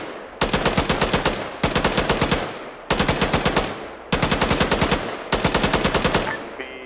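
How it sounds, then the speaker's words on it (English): A PKM machine gun in Arma 3 fires five loud, close bursts, each a rapid string of sharp shots separated by brief pauses. "I'm going to grab one of these PKM gunners and just start shooting so they can notice this"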